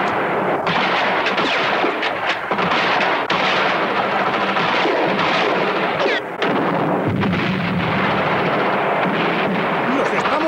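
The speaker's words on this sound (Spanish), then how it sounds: "¡Coge y lanza granadas! ¡Vuele ese maldito arsenal!" Action-film battle in which grenades blow up an arsenal amid heavy gunfire: loud, dense bursts of shots and booming blasts roll continuously, with shouting voices mixed into the din.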